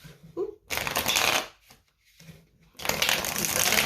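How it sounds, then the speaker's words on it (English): Tarot cards are shuffled close by in two riffling bursts separated by a short pause, crisp and fairly loud, with no talking. "shuffling today."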